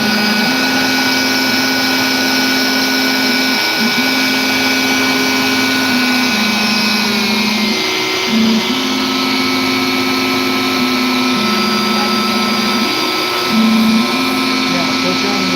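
A shop vacuum runs loud and steady throughout beside an X-Carve CNC machine, a constant motor whine with a slight pitch dip partway.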